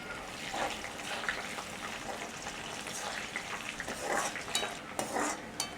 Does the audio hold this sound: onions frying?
yes